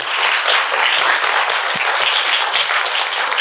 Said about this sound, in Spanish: Un aplauso para el doctor Juan Carlos.